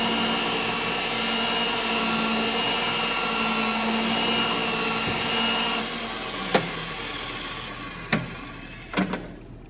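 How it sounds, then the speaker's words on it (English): A pipe threading machine cutting threads on 1/2-inch conduit drones with a steady, tonal motor hum for about six seconds before winding down, followed by a few sharp metallic clicks and knocks. "I'm going to do this threading on the other side just like I did on this"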